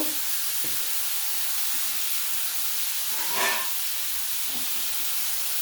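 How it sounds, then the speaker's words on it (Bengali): Giant freshwater prawns frying in a pan, a steady close hiss and sizzle with a brief louder spitting burst midway, no talking. "মাছগুলো একটু ভালো করে ভেজে নিই"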